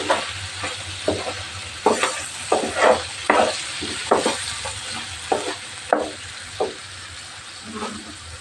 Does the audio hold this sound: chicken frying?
yes